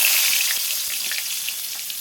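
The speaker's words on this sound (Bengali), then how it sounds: "এবার আমি ওই তেলেতেই দেখো পটলগুলো ভেজে নেবো" Pointed gourd pieces fry in hot oil with a steady, close sizzle and faint crackles throughout.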